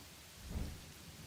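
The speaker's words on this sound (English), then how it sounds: "a heavy downpour of rain began to soak me" A heavy rain downpour with a low rumble of thunder swelling midway, in a spooky Halloween visual novel scene; steady hiss of rain throughout, with no talking.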